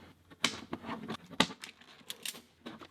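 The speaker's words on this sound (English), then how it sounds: "Right now, cut these corners off." Corners are cut off a recycled plastic KeyKeg, producing a quick run of sharp clicks and snapping cuts, close and fairly loud, with no talking.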